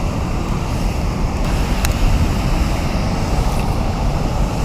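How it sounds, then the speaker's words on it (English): Water pours over a small creek dam in a continuous, dense rushing wash with a faint click partway through, steady and fairly close. "Here's where the dam pours in"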